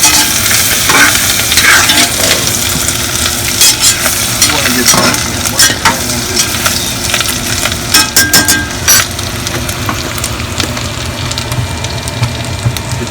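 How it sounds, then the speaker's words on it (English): Minced jarred garlic sizzles and fries with bacon in a hot pan, a steady loud crackle with stirring scrapes and spits throughout. "while this pan's still hot, I'm going to add some minced garlic"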